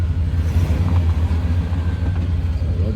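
A 1994 Chevy G20 camper van with a 4L60E transmission and a stripped stator rolls forward in drive, giving off a steady, close, low engine rumble with a faint whine on top.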